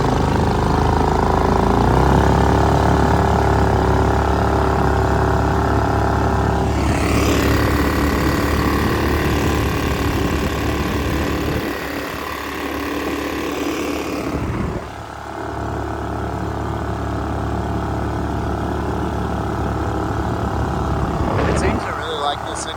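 A Predator 212 engine on a Mudskipper Twister Lite mud motor fitted to a 14-foot jon boat with a 6.5-inch prop runs loud and steady, holding a high rev with a brief dip partway through.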